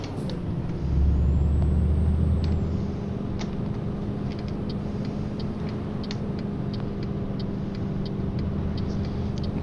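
A car approaches at a red traffic light on a town street, its engine and tyre noise a steady mid-distance rumble, with a brief air-brake-like hiss near the start and faint ticking throughout.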